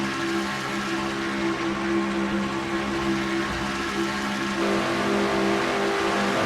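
Onboard a stock car racing at Talladega, the engine drones steadily near 8,000 RPM, a loud, constant, buzzing tone that holds for several seconds with a slight shift near the end.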